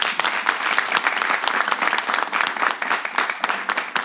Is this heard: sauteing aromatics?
no